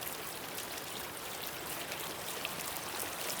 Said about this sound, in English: You can see that plume of water in that wide open bowl there, just really neat.